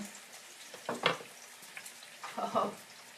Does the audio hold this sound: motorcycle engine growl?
no